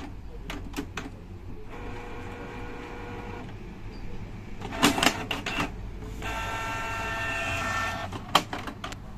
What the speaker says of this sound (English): Our printer works.